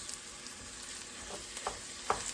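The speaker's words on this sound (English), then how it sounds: "I'm going to brown up this sausage." Sausage browns in a pan with a soft, steady sizzle, broken by a few brief scraping stirs; quiet and close, with no talking.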